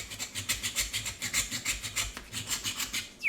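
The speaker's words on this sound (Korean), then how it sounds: "바로 톱과 망치예요." A saw cutting through a hard green mud crab shell, rapid rhythmic rasping strokes, close and fairly loud, about a dozen back-and-forth scrapes ending with a short squeak.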